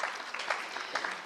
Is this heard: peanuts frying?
no